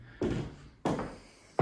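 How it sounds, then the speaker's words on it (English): Big wooden doors of a villa being opened, heard as a few dull, low thuds and knocks spaced apart, fairly close and quiet, with no talk over them. "And look at these big, beautiful big doors."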